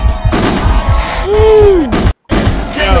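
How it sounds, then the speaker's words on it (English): Fourth of July fireworks in Los Angeles, a loud series of sharp bangs and booms with a rising whistle and a brief silent gap before more blasts. "Getting those 4th of July fireworks."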